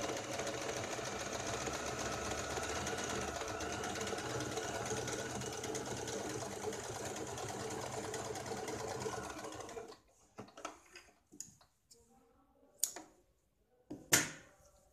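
A sewing machine runs a long, steady whir while stitching a double seam on a katori blouse, then stops around ten seconds. A few short clicks and handling knocks follow in near silence.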